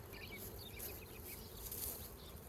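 Honeybees buzzing around an active hive, a steady faint outdoor drone of many wings with brief passes of individual bees, no talking.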